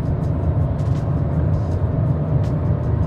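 Steady, loud engine drone and road roar from inside a Chevrolet Montana 1.2 turbo pickup with a remap, accelerating in fifth gear at about 90 km/h, continuous with no talk.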